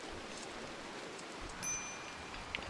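Steady rain ambience from the RimWorld video game, a soft continuous patter and hiss with no talk over it and a faint brief tick near the end.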